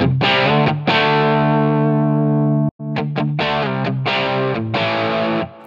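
Electric guitar played through a Line 6 Helix patch with heavy compression and distortion, sustained chords ringing out and then a short gap followed by choppy, punchy strummed stabs, loud and continuous with no talking.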